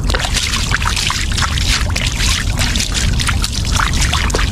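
Water pours and splashes steadily while a 1.5 kg mud crab is washed, a loud close gushing wash with no break over a few seconds.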